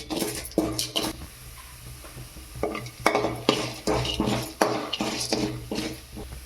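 Urad dal and chana dal fry in hot oil for a bottle gourd thuvaiyal, with a steady sizzle under repeated clinks and scrapes of a spoon stirring against the pan. The sounds are close, with no talk.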